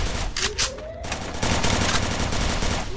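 Gunfire from a shotgun in the Garena Free Fire battle royale game, a dense burst of loud shots with game effects in a steady noisy mix, no talk over it.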